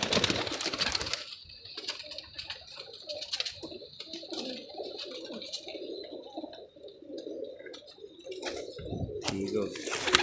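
Pigeons coo softly and repeatedly in a loft, fairly faint, with people talking nearby throughout and some rustling.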